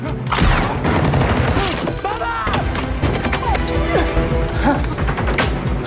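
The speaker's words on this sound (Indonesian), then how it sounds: "Akibat baku tembak barusan, Dani harus keserempet tembakan tapi tidak sampai menewaskannya." Gunfire exchange in an action film scene: dense, continuous volleys of loud shots and impacts mixed into a busy soundtrack, with brief voices, sustained for several seconds.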